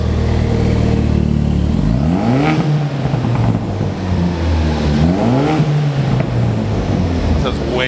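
Ford Mustang RTR fitted with an X-Force exhaust, valves open, revs twice in quick rising sweeps over a loud, steady idle burble, close by and filling the whole clip.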